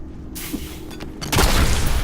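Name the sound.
grenade explosion in video game Diablo III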